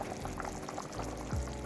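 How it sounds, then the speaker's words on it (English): A pot of water at a full rolling boil on a stove, ready for parboiled gungo rice, bubbling steadily and close by with no voices. "My pot is boiling now"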